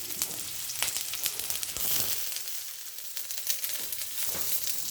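Oil sizzles steadily in a frying pan while sweet and sour chicken cooks, with crackling bursts and occasional stirring scrapes, close and continuous.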